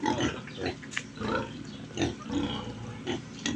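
Pigs on a pig farm in Apurawan grunt and snort in a few short, separate bursts over low barnyard noise, fairly close and moderately loud.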